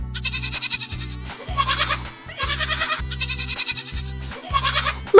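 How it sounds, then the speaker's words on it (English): A goat bleats loudly and close by in a run of repeated, quavering calls with short pauses between them, alone with no other sounds. "It's a goat!"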